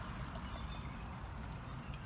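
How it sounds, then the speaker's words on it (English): Regular drinking water pours from a bottle into a container as a steady, broad splashing rush that runs unbroken at moderate loudness, close by, with no voices. "Go ahead and fill this container"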